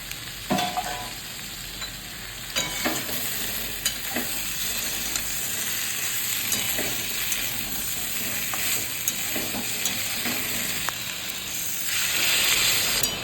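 Pointed gourd frying in a pan as spice paste is stirred through it, a steady, close sizzle and hiss with scraping stir strokes throughout and no talking.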